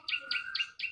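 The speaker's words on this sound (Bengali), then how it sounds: "পাখির আওয়াজ শুনতে পাচ্ছেন আশা করি।" Birds chirp outside a room at Megh Bari Eco Resort in Chakdah, giving four evenly spaced, bright tweets of similar length, clear and fairly close, with no talk over them.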